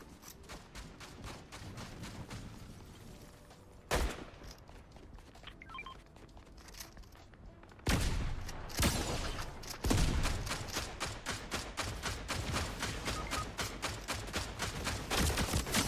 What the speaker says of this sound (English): we got somebody shooting over here with that electric weapon